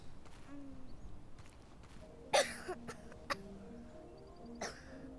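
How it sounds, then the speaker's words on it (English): A boy coughs in Life is Strange 2, a few short sharp coughs and throat sounds spaced apart over quiet ambient game noise with faint movement. "What are you coughing on?"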